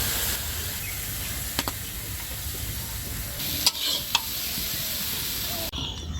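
Steady sizzling of cauliflower frying in oil, with a few sharp clinks of a utensil stirring the pan; no voices.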